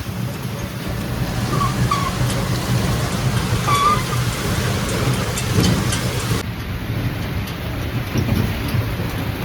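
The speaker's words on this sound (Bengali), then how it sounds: "কি জোরে বৃষ্টি হচ্ছে জাস্ট দেখো।" Heavy rain pours down with rumbling thunder, heard while riding in a toto, an electric rickshaw, as a steady dense hiss with low rolling rumbles and no talking throughout.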